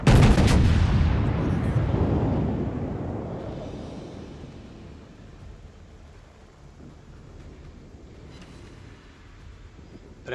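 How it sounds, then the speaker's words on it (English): A battleship's main guns fire in World of Warships in one heavy, booming salvo that rumbles loudly, then fades in a long rolling decay. "we spot the enemy Kutuzov"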